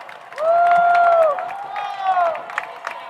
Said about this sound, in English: As the crowd once again makes some noise here.